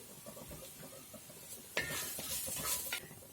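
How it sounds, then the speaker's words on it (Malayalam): A coconut masala paste with curry leaves for a jackfruit thoran is stirred in a pan. A quiet sizzle and soft scraping build into a louder, steady run of stirring near the end. "അതുവരെ നമുക്കിതൊന്ന് ഇളക്കി കൊടുക്കാം"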